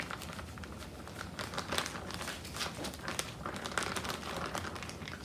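A plastic bag of ice cream mixture with cocoa is gently squished and kneaded by hand, making a continuous close crinkling and rustling with soft irregular crackles.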